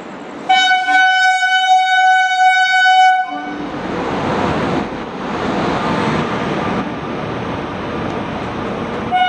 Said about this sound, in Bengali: ট্রেন এক নম্বর প্ল্যাটফর্মে দিয়ে দিয়েছে, আসছে ট্রেন